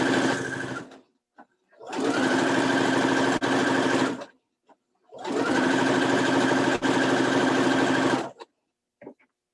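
A sewing machine stitches quilt fabric in two bursts of about two seconds each, a close, loud, fast whirring hum with quiet pauses between and small clicks of handling.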